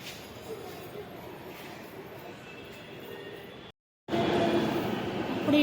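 A metro train arrives at the station with a steady rumble of wheels and motors. The sound cuts out briefly and then comes back louder and closer.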